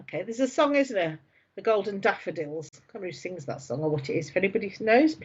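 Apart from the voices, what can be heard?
No distinct noise like a dog, phone or traffic.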